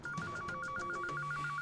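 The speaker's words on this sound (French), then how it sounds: "Le téléphone sonne." A telephone rings with a fast, warbling electronic trill repeated evenly, loud and close, over a faint music bed with no talking.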